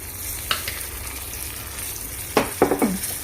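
A tadka of hing, turmeric and red chili frying in ghee: a soft steady sizzle at close range, broken by a sharp hiss near the start and a cluster of louder spattering bursts toward the end.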